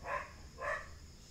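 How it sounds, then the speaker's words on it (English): A dog barks twice somewhere in the distance, two soft, evenly spaced woofs about half a second apart over quiet room ambience. "Normally there would be no dog barking."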